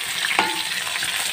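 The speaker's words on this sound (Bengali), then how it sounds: "মাছটাকে ভেজে নিচ্ছি।" Fish frying in a pan on a home gas stove, a steady close sizzle and crackle of hot oil throughout, with one brief stirring scrape partway through and no talking.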